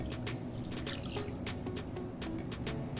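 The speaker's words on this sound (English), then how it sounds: "Water goes in." Water pours into powdered egg batter for egg-less French toast, a steady splashing trickle with dripping, close and continuous, with no talk.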